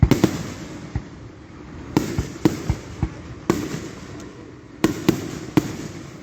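Fireworks burst at a Fourth of July show, a rapid string of loud, sharp booms and crackling pops in uneven clusters, some close together and some spaced out, with no talking.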